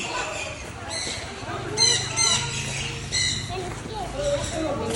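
Birds squawk in short, sharp calls inside an aviary amid constant chatter of people talking nearby, the cries scattered and partly buried under the voices.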